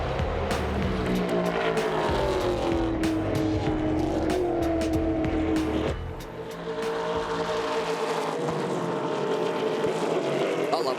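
Trans Am race cars at a Sydney circuit roar past at full throttle, a loud continuous engine howl with shifting pitch and a brief dip midway as the field passes.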